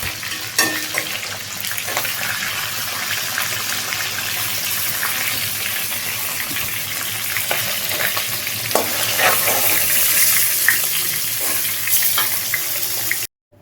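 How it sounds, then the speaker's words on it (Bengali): Whole garam masala, cumin seeds and bay leaf hit hot oil in a pan where katla fish heads were just fried, giving a loud, steady crackling sizzle with scattered pops and some stirring. "এই গরম তেলের মধ্যে আমি এই গরম মশলাগুলো আর জিরেটা তেজপাতা দিয়ে দিলাম"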